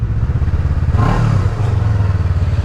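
A motorcycle engine idles with its exhaust removed, giving a loud, raw, close rumble with a brief rev swell about a second in and steady low throbbing throughout.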